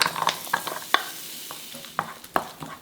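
Garlic fries in melted butter in a pan over very low heat, with a soft sizzle under repeated close scraping and stirring clicks.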